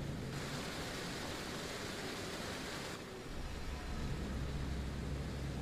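A steady, loud broadband rush of falling water from a waterfall in the video game Fatal Frame: Maiden of the Blackwater, continuous and alone, with a deeper low roar swelling in toward the end.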